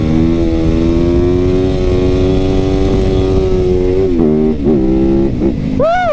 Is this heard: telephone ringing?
no